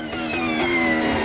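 Lando Norris's McLaren Formula 1 car at the Singapore Grand Prix, downshifting into turn 7 with a high, steady engine whine that shifts pitch, fairly loud and heard alone.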